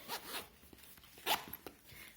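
Zipper pulled along the back pocket of a vintage Gucci bag, a few short rasping zips close up with pauses between them, quiet and alone.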